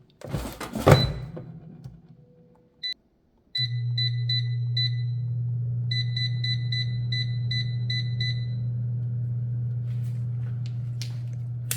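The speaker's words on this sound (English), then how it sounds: "we're going to go ahead and put these 2 sausage patties in the air fryer and get them going, and we'll go ahead and set them" An air fryer is loaded with two sausage patties and set: a few thuds and handling noises, then a series of short electronic beeps followed by a steady low fan hum that runs continuously to the end.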